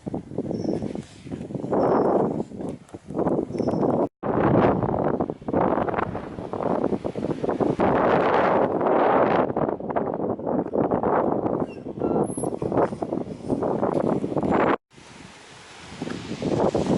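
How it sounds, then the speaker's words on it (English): Strong wind buffets the microphone on the Great Orme summit, loud and gusty throughout with two brief drops near the start and end, no clear voices. "Unfortunately, it's a bit windy today"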